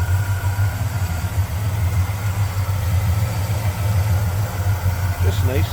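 A 1964 Chevrolet Chevelle Malibu SS with its 283 V8, headers, Edelbrock intake and carburetor, idles steadily with a low, even rumble, close by, continuous throughout, with someone talking over it.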